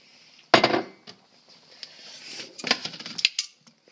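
Metal spoon knocked and scraped against a cooking pot of beef stew, a few sharp clanks and clinks with quieter scraping between them, close by and otherwise quiet.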